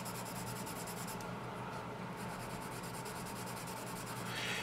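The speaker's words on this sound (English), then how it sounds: "You can probably hear it because it's a scratchier graphite." A Camlin 12B graphite drawing pencil scratches across paper in a steady, soft rasping rub, faint and close, continuing without pause and with no talking.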